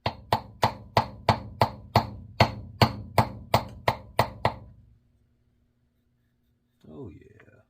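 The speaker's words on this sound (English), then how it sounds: "John, stay away from the body hammer" A body hammer taps out a dent in metal: thirteen sharp, ringing metallic strikes in an even, quick rhythm, loud and close, followed by silence and then a brief bit of voice.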